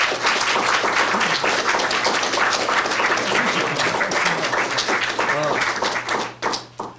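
An audience applauds a guest speaker at a lecture, with dense, sustained clapping filling the room and thinning out into a few scattered claps at the end.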